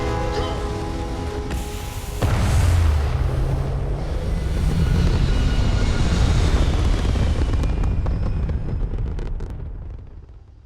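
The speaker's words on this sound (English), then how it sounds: "Ready for takeoff in 3, 2, Why is it always so loud? go!" A spaceship lifts off in the game Starfield with a loud, building low-frequency roar that swells around two seconds in, holds as a heavy rumble with crackling texture, then fades out near the end.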